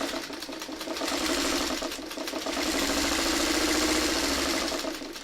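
A sewing machine stitches around a row of fabric with a steady, rapid mechanical whir and even pulsing rhythm. It runs continuously and close by, with no talking.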